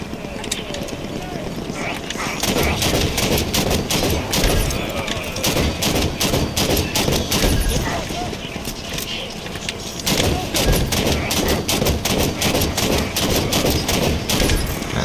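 Turrets fire in the video game Halo 5, a loud dense run of rapid gunfire that keeps going across most of the clip with a short break near the middle, mixed with game noise and a voice speaking.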